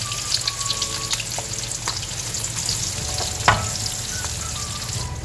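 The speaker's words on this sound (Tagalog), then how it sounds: "gisahin na po natin yung sotanghon gisado natin." Onion sautéing in oil in a pan for sotanghon guisado vermicelli noodles, a close continuous sizzle and crackle with occasional stirring clicks and scrapes, no talk.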